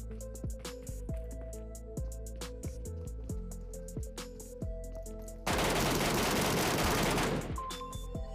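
Rapid gunfire rings out during a fight in the mobile game PUBG Mobile: repeated automatic bursts with sharp echoing reports, then a loud rushing burst of noise near the end.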